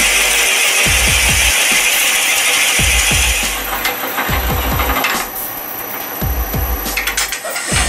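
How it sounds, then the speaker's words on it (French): A 10 mm hole is drilled into ash wood being turned into an old-style train whistle. Broadband whirring comes with repeated low thumping bursts in irregular clusters, close and loud, and no talk. "Donc, je perce à 10 mm."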